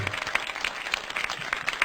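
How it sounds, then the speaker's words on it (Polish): Audience applause at a live concert by a jazz trio, a steady wash of many hands clapping throughout, fairly close and dense with no gaps. "Ogromne brawa"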